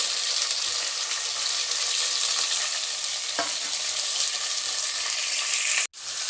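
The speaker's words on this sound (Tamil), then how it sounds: "லைட்டாக வதக்கிக்கோங்க" Steady, loud sizzling of tomatoes and chillies sautéing in a hot pan, with a light clink of a utensil midway and a sharp knock near the end.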